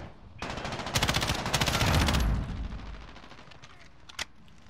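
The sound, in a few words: gunfire from Call of Duty Modern Warfare 2019 video game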